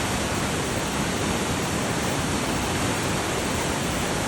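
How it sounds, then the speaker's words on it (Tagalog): Floodwater rushing through a valley in Mississauga, Ontario during a rainstorm, a loud, steady, broadband roar of fast-moving water that fills the whole clip without a break. "Nag-rainstorm dito mga kaibigan sa Mississauga, Ontario."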